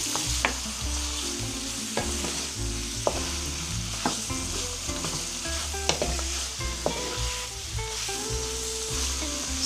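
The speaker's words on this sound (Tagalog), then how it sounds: "gisa-gisahin lang ang chicken para mag-brown ng konti yung" Chicken pieces sizzle in a pan as they brown, a steady crackling fry punctuated by repeated clinks and scrapes of a utensil stirring, close by with no talking.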